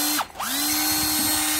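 A Japanese cordless drill with variable speed control and a reverse switch whirs up to a smooth, even high-pitched hum after a short dip, running steadily and close by with no voices.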